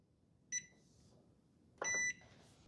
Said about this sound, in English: We're going to set our timer for